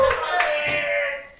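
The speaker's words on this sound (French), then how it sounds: "On peut l'applaudir." Audience applause at a live French-language podcast recording, a short burst of clapping hands that swells briefly and then fades out within a second or two.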